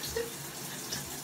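A shower runs steadily as a soft, even hiss of falling water, faint and continuous throughout with no talking over it.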